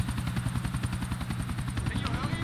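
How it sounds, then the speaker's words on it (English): A helicopter in Grand Theft Auto IV flies with a loud, steady rotor chop and engine whine, close and continuous, with a person talking over it. "I'm going to have to follow the helicopter"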